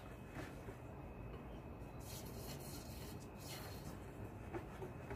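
A whisk stirs banana cream pudding mixed with Cool Whip in a bowl, making a steady, soft rubbing and scraping sound that runs quietly and continuously with no talking.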